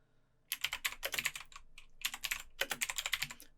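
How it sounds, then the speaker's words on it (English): Quick bursts of keystrokes clatter on a computer keyboard while a blog post title is entered, crisp close clicks in two runs separated by a short pause. "we're just going to type in the title of our blog post"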